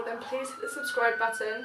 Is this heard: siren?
yes